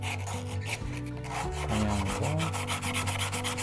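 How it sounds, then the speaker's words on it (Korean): Wood sanded by hand, with sandpaper wrapped around an index finger and following the shape of a carved leg: repeated close rubbing strokes in a steady rhythm over sustained musical tones, with a brief spoken word. "검지손가락에 사포를 이렇게 끼워 가지고"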